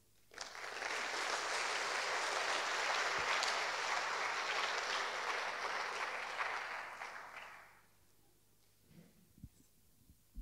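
A conference audience claps in a dense burst of applause that swells, holds steady for several seconds, then fades out into a few scattered sounds.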